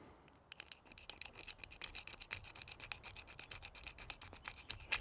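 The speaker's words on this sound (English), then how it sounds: "To cut the bone, I'm going to grind a groove with one of the flint flakes" Flint flake grinding a groove into a deer leg bone, a steady close scraping rasp of repeated short strokes.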